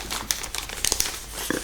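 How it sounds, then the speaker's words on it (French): A small plastic sachet crinkles and rustles in short bursts as a craft item is slipped back inside, close and fairly quiet, with no talking. "je vais remettre dans le petit sachet"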